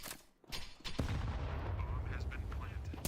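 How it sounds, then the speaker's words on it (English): Gunfire during a professional Counter-Strike match between Rare Atom and Astralis, with a pistol among the weapons: sharp shots and dense, booming game noise that stays loud and continuous, mixed with speech. "Good cover from Shiro's pistol."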